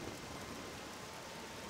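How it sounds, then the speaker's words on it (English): Steady rain in the video game OpenMW, a remake of Morrowind: a dense, even hiss of falling rain that continues unbroken at moderate loudness, with no talking. "Well, another rainy day out here"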